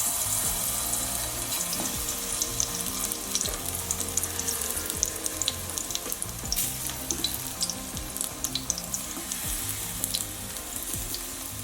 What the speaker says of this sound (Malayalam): ഈ നെയ്യ് ചൂടായിട്ടുണ്ട് ഇതിലേക്ക് നമ്മൾക്ക് ഓരോ ബനാനയുടെ പീസും വെച്ച് വെച്ച് കൊടുക്കാം